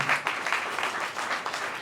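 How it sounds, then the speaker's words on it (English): Applause at an ECOWAS agricultural event as a company managing director is called to the table, a dense, steady burst of clapping from a crowd, loud and close. "a round of applause for him"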